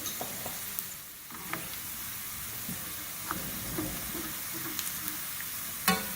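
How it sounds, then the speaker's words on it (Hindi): Cumin seeds sizzle and crackle in hot oil for a tadka for chana and black masoor dal, a soft steady frying hiss with scattered pops and stirring clicks, heard alone. "थोड़ा सा फ्राई करेंगे, ज़रा कड़कड़ा लेंगे ज़ीरे को"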